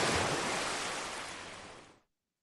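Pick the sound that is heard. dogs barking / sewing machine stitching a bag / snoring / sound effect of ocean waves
sound effect of ocean waves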